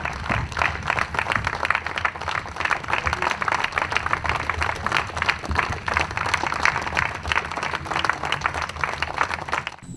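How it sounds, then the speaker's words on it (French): A crowd applauds steadily and loudly for the founding president of the Défi Congo political party at its official launch, dense clapping filling the space throughout without pause. "applaudissons pour Papa Diangenda, le président fondateur du parti Défi Congo."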